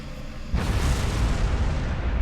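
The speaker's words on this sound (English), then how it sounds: "Oh no! It exploded!" A piece of technology blows up in the video game Star Trek Online: a sudden deep boom bursts in after a quiet lead-in, then a rumbling roar continues loudly to the end.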